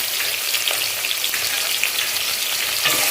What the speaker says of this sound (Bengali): বাদ বাকি কুমড়োগুলো দিয়ে দিচ্ছি ভাজতে